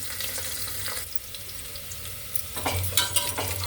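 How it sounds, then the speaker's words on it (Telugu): Garlic, drumstick leaves, mustard seeds and cumin seeds frying in a pan, heard as a close, steady sizzle with scraping stirs. A louder burst of stirring and crackling comes near the end. "మునగాకు పచ్చి వెల్లుల్లి మంచి బాగా వేగింది"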